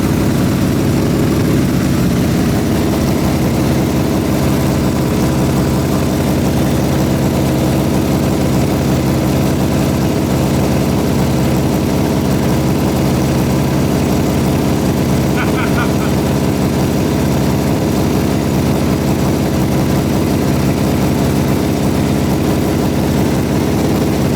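A Honda CB350F motorcycle engine with a backyard big bore kit runs continuously at a loud, steady idle, a dense low rumble that fills the whole stretch, with voices mixed in.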